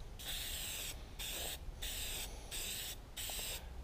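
Clear lacquer finish being sprayed onto metal in quick dusting passes: five or six short, loud hissing bursts separated by brief gaps, close and steady, with no talking.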